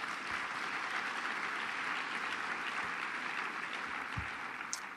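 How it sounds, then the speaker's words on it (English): Conference audience applauding at a national leadership forum plenary, a dense, even wash of clapping that holds steady throughout at moderate, somewhat distant level. "So let's applaud them, please."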